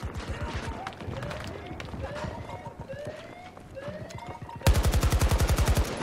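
Rapid automatic gunfire in the shooter Battlefield 2042, with scattered shots and game sounds under excited talk, then a loud, sustained burst of evenly spaced shots toward the end.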